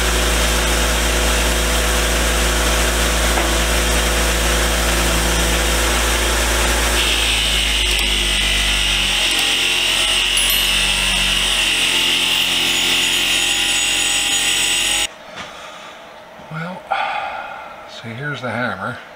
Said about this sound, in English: we throw it on the wire wheel